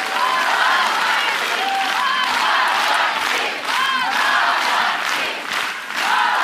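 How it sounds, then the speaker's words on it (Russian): A television studio audience bursts into stormy applause mixed with shouts and whoops at a dance show final, the loud crowd noise sustained throughout with brief dips and swells. "под эти бурные аплодисменты"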